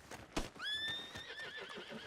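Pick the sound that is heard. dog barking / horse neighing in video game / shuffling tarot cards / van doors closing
horse neighing in video game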